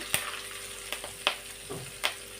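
Tomato and red chilli chutney stirred in a frying pan with curry leaves and turmeric, a faint sizzle under a few sharp scrapes and clicks of the spoon against the pan.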